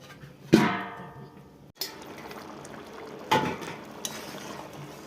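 A metal lid clanks onto a cooking pot in a Bengali kitchen where potatoes and prawns are being boiled, a sharp close clatter followed by further lighter metallic knocks over a faint bubbling background.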